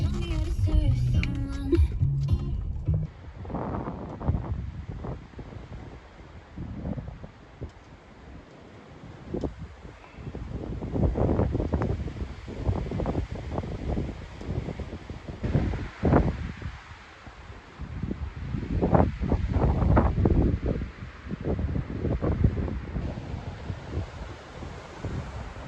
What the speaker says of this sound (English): the wind has picked up quite brutally